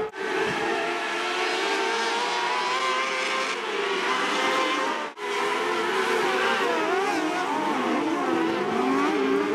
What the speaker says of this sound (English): A lot of hard racing happening during the heat races and into the rest of the qualifying throughout the night.